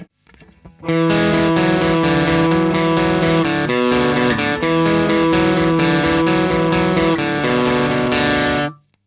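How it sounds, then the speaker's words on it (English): A loud, heavily distorted electric guitar plays the lead intro riff of a song at full speed, fast continuous repeating notes at a steady tempo for several seconds, then stops abruptly. "the lead guitar intro riff up to speed sounds like this"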